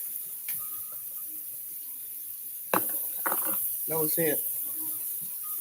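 Tap water runs steadily while a pineapple is rinsed, a constant hiss through the whole stretch, with a person talking over it in the second half.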